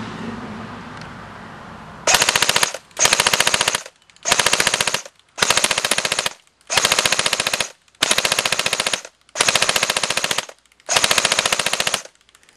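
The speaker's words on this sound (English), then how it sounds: "Now, let's try a full auto burst." A CODE-8 PTW airsoft gun fires eight rapid full-auto bursts, each a quick buzzing string of shots under a second long, separated by short pauses.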